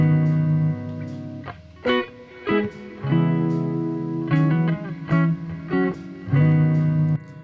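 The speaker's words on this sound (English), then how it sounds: "So we have a pretty good sense of what reverb into delay sounds like" Guitar chords ring out drenched in fully wet spring reverb, each strum echoing back in repeated stereo delay trails that smear into a washy, lingering tail.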